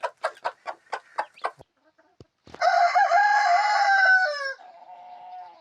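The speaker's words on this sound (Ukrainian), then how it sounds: "Знову квочка почала квохкати" A broody hen gives a series of short, evenly spaced clucks, then after a pause a young rooster crows loudly nearby, ending in a softer trailing note.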